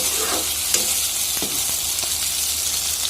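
Meat frying in a pan over a medium flame gives a steady, close sizzle throughout, with occasional faint clicks and no voices.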